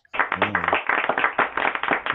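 A small group claps after a Christian song at a music college lesson, a brisk, even patter of hands lasting about two seconds, close and moderately loud.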